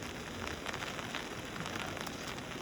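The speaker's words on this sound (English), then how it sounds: "I wait the rain out." Rain falls steadily outdoors at a motorcycle camp in the Sierras, forming a dense, even patter of drops on surfaces with no voices.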